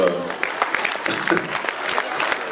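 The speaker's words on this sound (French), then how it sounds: "Merci, vous pouvez applaudir." Audience applause at a Téléthon charity party in a village hall, a soft spatter of clapping that runs under a speaking voice for a couple of seconds.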